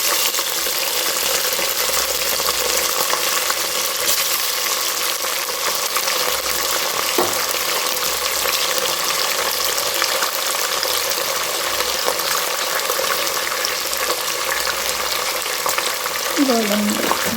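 Capsicum frying in a hot pan for a home-cooked rice dish, a loud continuous sizzle with occasional stirring and clatter throughout.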